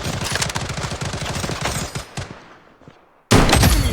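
Rapid automatic gunfire from the video game BloodStrike rattles loudly and close, bursts tailing off into a fading echo before another loud volley cuts in abruptly.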